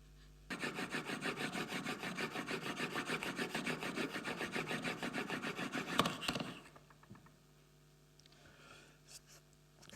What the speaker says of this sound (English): So we'll go to the stones now and we'll sharpen this blade.